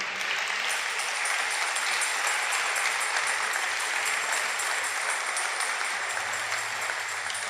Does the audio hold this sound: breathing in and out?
no